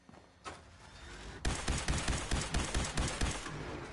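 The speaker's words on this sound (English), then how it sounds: "Guys, we got the Gauss minigun back." A Gauss minigun fires in a modded Fallout 4: after a single shot and a short wind-up, a rapid, loud, rhythmic stream of heavy shots pounds along close up, with no one speaking.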